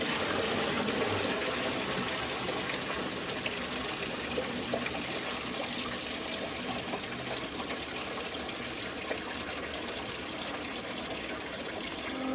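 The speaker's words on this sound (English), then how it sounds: "Go ahead and flush it." Water flushes through a rebuilt, previously overheated Detroit Diesel 8V92TA engine, a steady broadband rush and gush that holds at an even level throughout with no voices.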